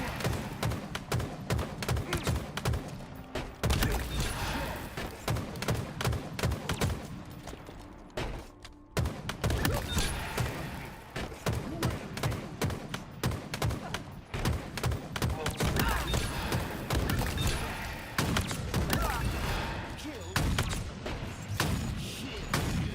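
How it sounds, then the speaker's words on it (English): Weapon fire in a Halo scrim match, dense repeated shots and thuds running throughout at steady loudness, with brief lulls, while people talk over it. "Just shooting my weapon feels totally different."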